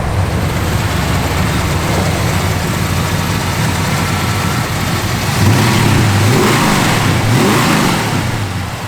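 A 1969 Plymouth Road Runner with a 440 V8 rumbles steadily up close, then revs harder from about five seconds, its pitch rising and falling in a couple of loud throttle sweeps.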